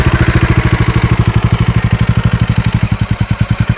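A Bajaj Dominar 400 motorcycle engine idles loudly and steadily nearby, its rapid thumping pulses chugging in an even rhythm.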